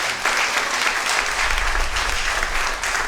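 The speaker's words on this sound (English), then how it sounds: "Let's give Janine and Chris a hand" Steady applause from an audience, dense clapping filling the whole stretch without pause.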